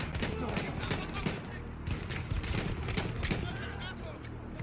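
Rapid, irregular gunfire in a video game, with many sharp, fairly close shots scattered across nearly five seconds at moderate level, mixed with other game noise and a voice talking over it.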